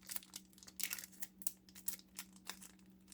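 Plastic wrappers on trading card hanger packs from a Topps 2026 collectors kit crinkling and tearing open, a close, irregular run of crisp rustles and crackles with a low steady hum beneath, no voices.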